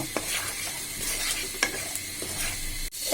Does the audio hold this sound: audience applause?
no